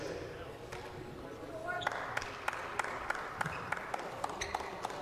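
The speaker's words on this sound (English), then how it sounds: "Jim Spinarkle, crowd mic is excellent because we are hearing sneakers squeaking, hands clapping" Sharp sneaker squeaks and scattered hand claps ring out over a steady crowd murmur in a large gym during a college basketball game, Gonzaga at Pacific, the squeaks repeating in quick bursts.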